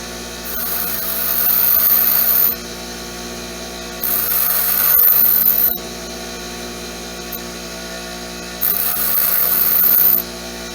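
An angle grinder shortens the end of a bolt at about 45 degrees, cutting in three sustained bursts of bright, hissing abrasion, each about two seconds long with quieter gaps between, close and steady.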